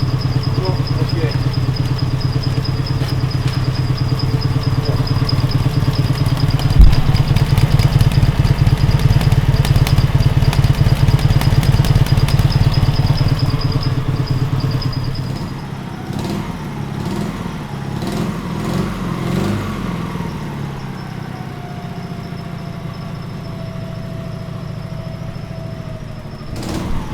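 An MT motorcycle engine converted to run on LPG idles with a steady low thrum and rattle, loud and close for about fifteen seconds before fading into quieter clatter and handling noises, with someone talking over parts of it.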